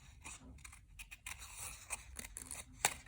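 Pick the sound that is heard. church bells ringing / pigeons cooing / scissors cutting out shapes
scissors cutting out shapes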